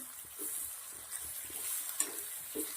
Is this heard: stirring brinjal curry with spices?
yes